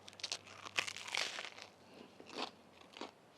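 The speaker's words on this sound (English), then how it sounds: "I don't know if y'all can hear that crunch or not." Close, crisp crunching bites into a toasted double smash patty melt sandwich, several sharp crackles in quick succession with quiet chewing between, no talking.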